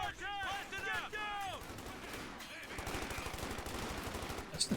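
Gunfire in Company of Heroes 2 cutting down infantry, rapid machine-gun bursts and scattered shots rattling in a fast stuttering run, moderately loud, following a short stretch of whining tonal sounds.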